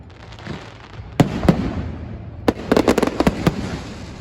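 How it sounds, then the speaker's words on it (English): Fireworks by the bridge at the Kanchanaburi fair crackle and pop in scattered sharp bursts, a couple of single bangs and then a rapid cluster, heard from a distance over a low outdoor rumble. "They also have light shows and fireworks by the bridge."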